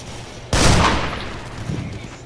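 A single loud gunshot blast in the horror shooter Killing Floor, sharp onset then a decaying rumbling tail, alone without talk.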